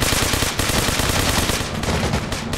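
Dense, continuous automatic gunfire in the military game Arma Reforger, loud and close, with rapid bursts and brief gaps between volleys.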